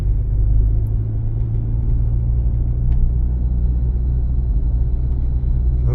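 A car drives along a driving-test route on the Skvyra highway in Bila Tserkva, producing a steady, loud low road rumble and engine drone from inside the cabin, with no talking.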